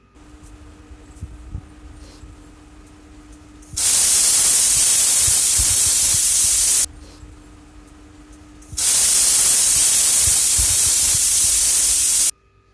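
A pressure cooker cooking wheat rava biryani whistles twice, each a loud, sustained steam hiss lasting a few seconds, separated by a quieter stretch of background kitchen noise.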